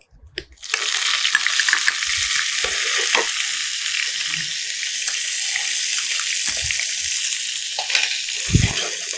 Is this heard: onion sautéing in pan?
yes